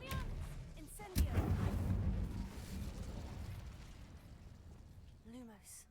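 A fiery Incendio spell cast in Hogwarts Legacy, a sudden whooshing burst followed by a roaring, crackling flame that slowly fades, with game sound effects and a voice nearby.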